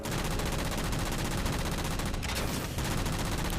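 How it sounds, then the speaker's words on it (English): Rapid, continuous cannon fire from the Mantis mech's boom cannon in Halo 4, a dense, loud barrage of booming shots that runs without pause. "I hope you like my boom cannon as much as I do, because you're about to get blown away by it."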